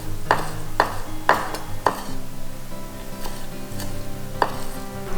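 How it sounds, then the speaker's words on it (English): Green onions for a fresh kimchi salad being chopped into small pieces on a cutting board, several sharp close knife strikes in an uneven rhythm against a quiet kitchen hum. "I have some green onions here. I'm going to cut them into small pieces."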